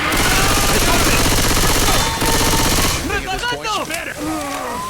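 Rapid automatic gunfire from the Left 4 Dead 2 video game, loud and dense for about three seconds with an AK-47 in play, then giving way to scattered bursts and other game sounds.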